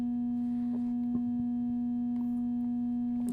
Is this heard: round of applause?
no